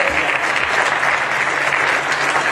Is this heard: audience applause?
yes